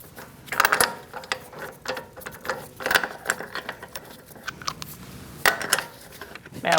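A socket ratchet tightening the sway bar link nuts on a 2008-2014 Mercedes-Benz C300, heard as close bursts of quick metallic clicking with gaps between strokes.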